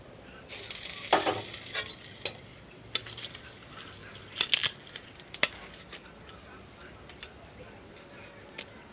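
A pan sizzles and gets stirred after milk is poured in while cooking a raw banana curry without onion or garlic, with scraping clinks of a utensil against the pan in irregular bursts over a low frying hiss.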